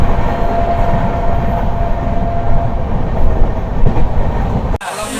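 A passenger train on the route toward Kamakhya in Assam rumbles loudly along the rails, with a dense low roar and rhythmic wheel clatter from inside the carriage, ending in a sudden brief thump.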